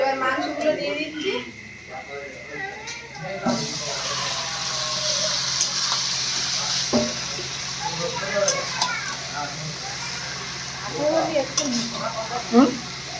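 Meat added to a wok of onion, tomato, green chilli and whole garlic cooking over a wood-fired clay stove, giving a steady broadband sizzle and stirring scrapes throughout, with people talking over it.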